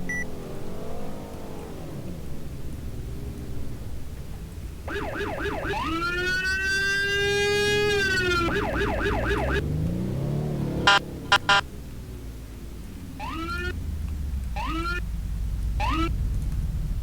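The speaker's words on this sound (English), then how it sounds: "that's my custom police car, if you didn't know" A custom police car siren in a Roblox game sweeps loudly in wailing rising and falling tones, then breaks into short repeated yelps toward the end, steady and close with no one speaking.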